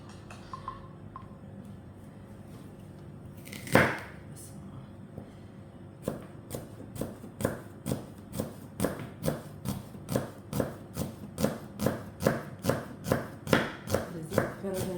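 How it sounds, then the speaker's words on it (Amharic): Onions being cut lengthwise on a board for chicken mandi: after a lone thud, a steady run of sharp knife chops starts and keeps an even rhythm, close and clear. "በረጃጅሙ እንደዚህ ከትፌ አዘጋጀው።"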